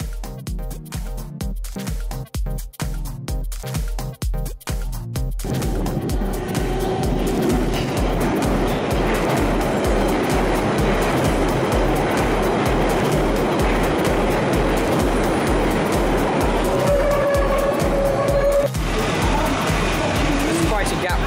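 An eastbound London Underground Central Line train runs loud and close with rapid rhythmic clicking, then a steady rumbling roar and a brief high squeal near the end.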